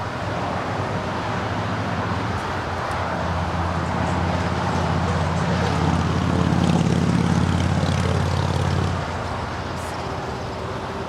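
An Alaska Airlines Boeing 737-800 departing LAX runway 25 left, a broad steady engine roar that swells to a peak and then eases off, heard at a distance with no voices.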